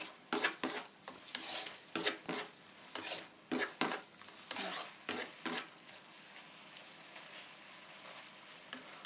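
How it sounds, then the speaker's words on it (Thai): Mushrooms stir-fried with fish sauce in a pan, a utensil scraping and clinking against the metal in irregular sharp strokes, close and fairly quiet, fading toward the end. "จากนั้นเราก็ผัดให้ เข้ากันนิดนึง"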